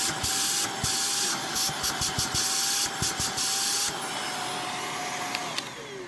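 A Honiture H8 cordless stick vacuum runs loud and steady with a broad whooshing hiss and high motor whine, plus a few short bursts and thumps from handling as it switches on and runs.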